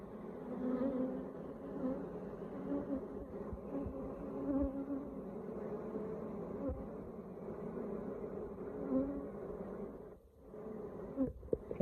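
Honey bees hum around a recently split hive, a dense, continuous low buzz close by that wavers in strength, dips briefly near the end and is joined by a few light knocks.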